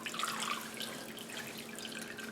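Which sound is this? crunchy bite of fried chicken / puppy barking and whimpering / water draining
water draining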